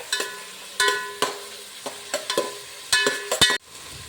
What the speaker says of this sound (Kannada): ಇದನ್ನು 5 ನಿಮಿಷ ಹೀಗೆ ಫ್ರೈ ಮಾಡಬೇಕು ನಾವು